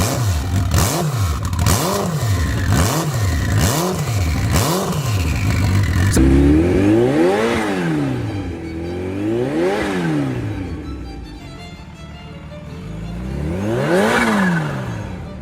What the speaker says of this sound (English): Let's listen to a Turbo Hayabusa and the ZH2